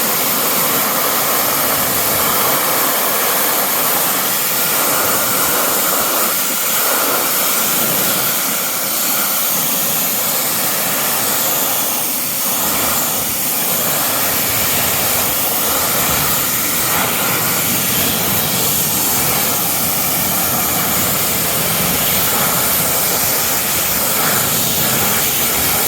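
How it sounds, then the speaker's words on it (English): A pressure washer sprays a dirty car in a home garage with a steady, loud, close hiss and roar, unbroken throughout and with no talk. "I want to spend the time letting the pressure washer do its work."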